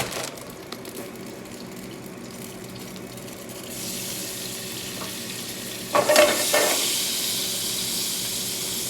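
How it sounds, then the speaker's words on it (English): Garlic browning in plenty of olive oil in a pan, a soft steady sizzle that swells louder midway, with a brief burst of stirring or added liquid near the end; no talking. "Browning garlic, not burning garlic."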